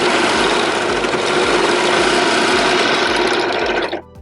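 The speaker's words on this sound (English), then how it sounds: "So what you want to do is stitch all the way around your project." A serger sewing machine running steadily while stitching around a fabric project such as a napkin, a loud close buzzing whir that holds evenly for about four seconds before cutting off abruptly.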